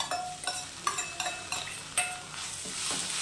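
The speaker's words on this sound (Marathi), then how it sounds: "आता त्याच्यामध्ये आपण ही भाजी टाकून घ्यायची" Drumstick leaves being sautéed with browned onion in a pan: a sizzle under several sharp metallic scrapes and clinks from a stirring spoon, up close, with no voices.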